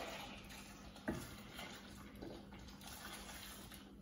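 Boiling hot water poured from a kettle over eggs in a pot, a soft steady splashing stream with one brief clunk near the start, close and fairly quiet with no talking.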